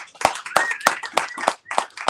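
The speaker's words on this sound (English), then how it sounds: "Give a big round of applause to Jim Feist" A small studio audience claps for sports handicapper Jim Feist on a football betting show, seven distinct, evenly spaced loud claps close to the microphone, with a faint tone running between them.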